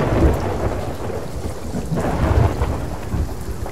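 A thunderstorm in the pirate video game Sea of Thieves: loud, continuous rumbling thunder over heavy rain, deep and rolling throughout with no speech.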